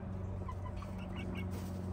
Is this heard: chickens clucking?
yes